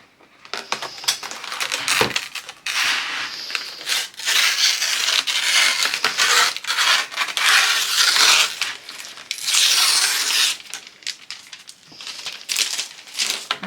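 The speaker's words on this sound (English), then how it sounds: "We need to peel this off all the way around" Sticky embroidery stabilizer peeled away in a long continuous pass around a hoop, a loud close crackling, tearing rasp with short pauses and crinkles, no talking.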